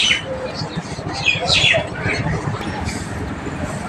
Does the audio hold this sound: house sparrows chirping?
yes